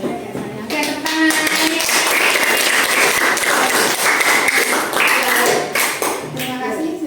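Students in an Indonesian classroom clap for a group after its presentation: a burst of scattered applause with sharp taps, mixed with nearby voices and talk.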